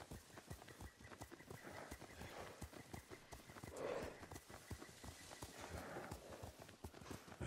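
Horse hooves clip-clop at a steady riding gait in Ghost of Tsushima, a close, continuous run of rapid hoof beats over a low background that lasts the whole stretch.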